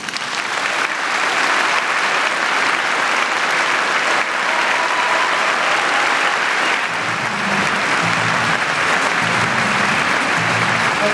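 Sustained audience applause fills a concert hall at a poetry slam awards show in the Elbphilharmonie, loud and dense throughout with a low crowd rumble joining near the end.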